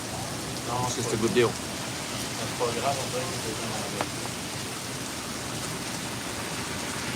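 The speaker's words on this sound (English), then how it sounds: "It's just so grey and so rainy out here." Steady rain falls outdoors in Montreal on a grey day, a continuous soft hiss of drops on surfaces that runs evenly throughout, while someone speaks briefly over it near the start.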